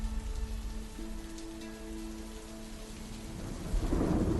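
Heavy rain hisses steadily while thunder rolls in the distance, with a deep rumble swelling louder near the end, and no voices.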